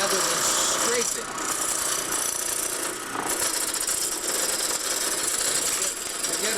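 On a wood-turning lathe, a cutting tool peels wood from a spinning workpiece, producing a loud continuous whirring, tearing rasp that holds steady throughout at close range, with a brief dip near the start.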